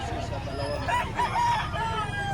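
Roosters at a chicken market in Lipa, Batangas, crowing in long drawn-out calls that overlap, with crowd noise and voices in the background.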